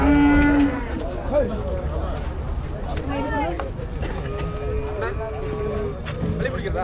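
Three newly bought cows moo in several drawn-out, wavering calls at close to moderate range, with people's voices and general bustle in the background.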